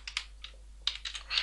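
Keys tapped on a computer keyboard while writing jQuery code, in short quiet bursts of clicks with brief pauses between them.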